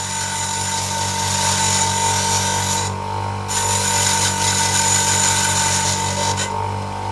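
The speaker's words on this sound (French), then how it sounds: "Donc, je vais le faire avec un petit touret." Small bench grinder grinding down a metal part for a homemade 80W diving light, a continuous harsh grinding rasp over a steady motor hum, with two short dips where the piece is lifted away from the wheel.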